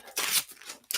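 A plastic mailer bag is sealed for an order: a sharp tearing strip of the adhesive liner, a crinkly press, then another quick rip, close and alone.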